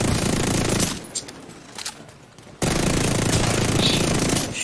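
Gunfire in the online shooter Division 2, dense continuous rattling bursts that break off briefly into quieter scattered shots, then resume loud and steady to the end.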